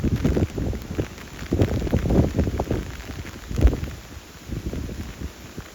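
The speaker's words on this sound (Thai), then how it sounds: "ทั้งลมทั้งฝนนะครับ ฝนก็ตก" Rain and gusty wind blow beside Thai train 556, stopped mid-route on an evening of sudden rain, heard as a rough, surging rush of drops and wind buffeting the microphone up close.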